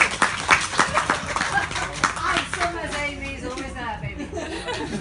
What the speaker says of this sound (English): I'd like you to applaud Ben, but also applaud Amy